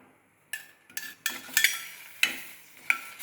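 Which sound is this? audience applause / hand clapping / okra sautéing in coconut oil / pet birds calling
okra sautéing in coconut oil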